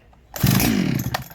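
A ported Farmertec G372XT chainsaw engine catches and revs briefly, a loud raspy snarl that rises and then falls away within about a second, with a sharp crack near the end.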